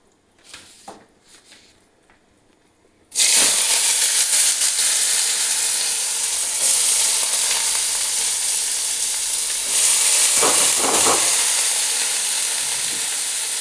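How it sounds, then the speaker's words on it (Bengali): Onions hit hot oil with sugar already in the pan and burst into a loud, close sizzle that keeps hissing steadily, with a few stirring scrapes, after a quiet stretch of soft handling sounds. "পেঁয়াজটা একটু লালচে করে ভাজবো"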